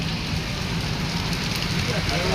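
Steady, dense rain hiss in Prayagraj fills the scene without pause, a broadband wash close by with no clear individual drops.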